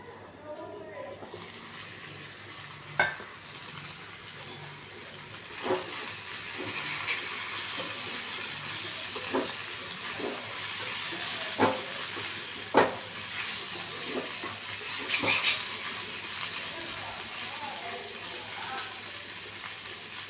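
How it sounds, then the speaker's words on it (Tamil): Bitter gourd is stirred in a pan with turmeric, salt, asafoetida and oil, giving a soft steady sizzle broken by occasional spoon taps and scrapes, while someone talks over it. "மஞ்சத்தூள், உப்பு, பெருங்காயத்தூள் போட்டு நல்லா கிளறி எண்ணெய் கொஞ்சம் ஊற்றி மூடி மூடி வேக வச்சு"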